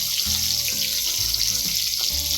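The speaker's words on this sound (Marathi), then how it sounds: "दुसराही बोंबील असं तळून घ्यायचं आहे दुसऱ्या बाजूने पलटून घ्यायचं आहे" Bombil (Bombay duck) fish coated in rice flour and semolina frying in hot oil, a steady close hiss and crackle throughout with a faint low hum beneath.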